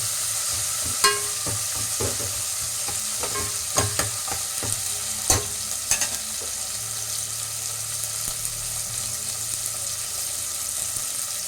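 Onion sautéing with broad beans, brinjal, drumstick and carrot for hotel-style sambar: a steady close sizzle of frying, broken by several sharp clinks and scrapes of stirring in the pan.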